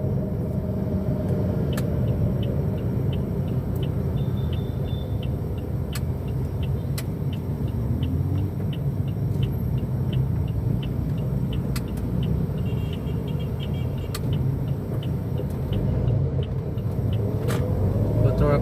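Car driving through slow road traffic, a steady close engine rumble and road noise running continuously with faint passing vehicle sounds.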